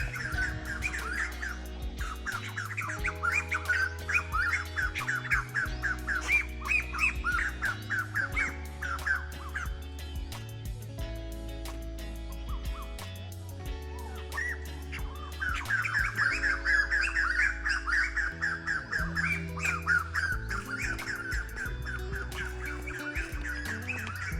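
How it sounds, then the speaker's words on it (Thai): Birds chirp and call in bursts outdoors over a faint low background hum; the calls fade midway, then return busier. "มีเสียงนกด้วยนะครับ"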